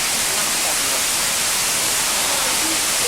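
Steady, dense rush of flowing water close to a waterfall on a mission trip in Haiti, a continuous broadband roar with no clear breaks, loud and even throughout.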